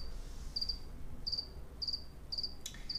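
Crickets chirp in about five short, rapid trilling bursts separated by brief pauses, fairly faint over a quiet background with no voices.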